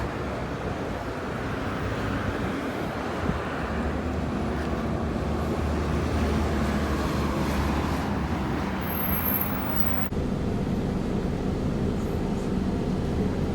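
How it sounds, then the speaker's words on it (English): A gas-powered route 205 bus in Perth, heard as a steady low engine drone and road rumble, close and constant throughout with a brief high squeal near the end, no talking. "And a gas bus to finish it off,"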